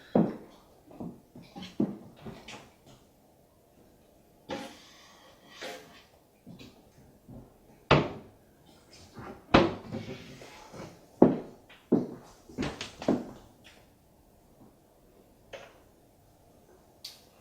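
Kitchen cupboard doors opened and closed during a property check-in inspection, heard as a series of close, sharp knocks and clunks with quiet gaps between them, no talking.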